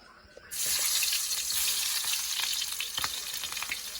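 Onion drops into hot oil for adobo and bursts into a loud, sustained sizzle after a brief quiet start, with a few stirring scrapes under the frying.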